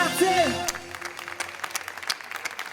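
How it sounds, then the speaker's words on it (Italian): Outdoor summer concert crowd in a town square applauds after a vocal performance, a voice trailing off at the start before scattered, moderate clapping continues with sharper individual claps. "Lascio che a parlare sia il vostro applauso per il nostro Sal!"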